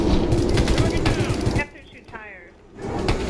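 Rapid gunfire from the video game Ghost Recon Future Soldier crackles loudly for the first second and a half, then drops away to a quieter stretch before picking up again at the end, with talk mixed underneath.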